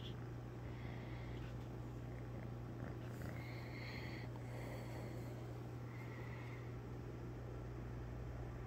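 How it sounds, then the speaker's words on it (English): A cat purrs with a faint, steady, low rumble that runs throughout, quiet and close, over a constant background hum. "Here's a cat."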